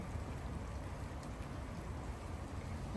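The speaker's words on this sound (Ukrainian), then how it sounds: "За вікном дощик." Steady rain falls outside a window in Kraków, a soft continuous hiss of drops that stays even and fairly quiet throughout with no voices.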